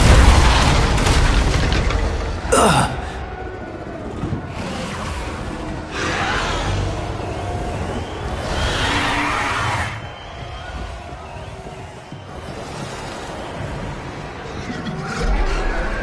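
Spell blasts and explosions in the Hogwarts Legacy video game: a run of heavy booms and bursts with rumbling tails, loud and close, with quieter stretches and sharp pops between them.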